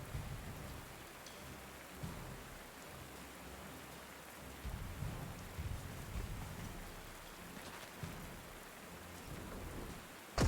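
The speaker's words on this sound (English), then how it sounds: "Since it's raining anyways right now" Steady rain pours in the Panzer Corps 2 strategy game, a dense hiss with low rumbling thunder-like swells rising and falling throughout, heard alone without voices.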